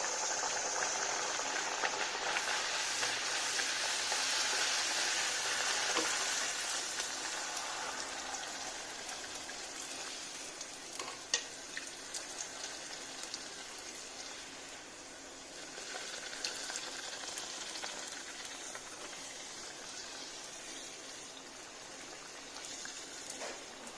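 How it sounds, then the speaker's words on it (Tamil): Poori deep-fries in hot oil, a continuous bubbling hiss that swells and eases slightly over time, fairly faint, with a few brief clicks and no talking. "எண்ணெய் நல்லா காஞ்சிருச்சுங்க. இப்போ பூரி போட்டு எடுக்கலாம்."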